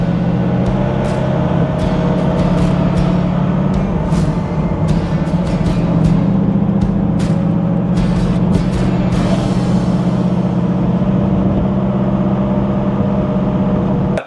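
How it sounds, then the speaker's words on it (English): A 1973 Chevrolet Camaro LT muscle car with split bumper, 4-speed manual and 350 horsepower drives along with a steady, loud engine drone and an even exhaust hum, heard up close with no talk. "I told you this thing handles, shifted, and sounded like a real deal muscle car."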